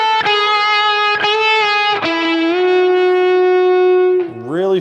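Electric guitar played through a Helix LT with a sustained, overdriven lead tone: a solo with picked notes, a long held note and a rising string bend at the end, loud and alone.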